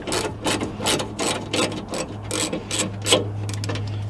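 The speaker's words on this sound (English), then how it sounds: "To take off the grill, you see a 10mm wrench. Unscrew this bolt here very easily" A 10mm wrench turns a bolt on a Toyota Tacoma grille, giving a run of quick ratcheting clicks in short repeated bursts over a steady low hum, close and moderately loud, with no talking.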